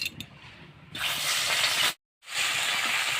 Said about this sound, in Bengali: তেল গরম হয়ে গেছে মাছ এখন ভেজে নিচ্ছি